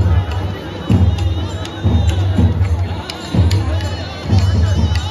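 A huge festival crowd packs the grounds outside Kunkeshwar temple, a dense murmur of many voices with people talking nearby and bursts of louder chatter rising and falling.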